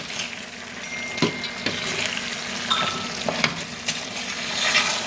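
Spoon stirring seasonings through lasagna in a single pot, with soft scraping and a few sharp clicks against the pan over a faint steady sizzle; no talking.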